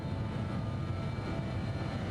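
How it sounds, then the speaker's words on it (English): Jet engines of a BAe 146-300 airliner in Microsoft Flight Simulator hum from the flight deck, a steady dense rumble with a faint whining tone running through it. "Hear those sounds change from the engines, the pitch"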